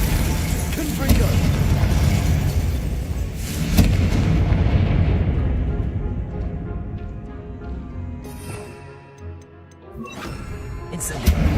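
A Confringo explosive spell fires in the Hogwarts Legacy video game, a loud booming blast with rumbling low end that swells and decays over several seconds amid dense game sound and music.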